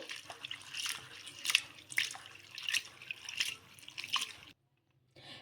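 Flattened rice (poha) being rinsed in water by hand, with repeated soft splashing and swishing pulses at close range, then a brief quiet gap near the end; no talk.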